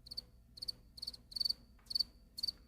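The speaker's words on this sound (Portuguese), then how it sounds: "É o grilo doméstico," A house cricket chirps indoors in six evenly spaced, pulsed bursts, faint but clear against a quiet background.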